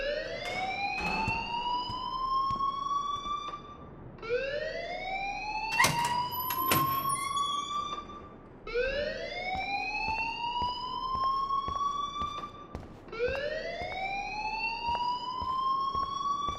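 A looping electronic alarm in the video game Life Is Strange, four rising whooping siren sweeps repeating every few seconds, loud and steady, with a couple of brief clicks in between and no voices.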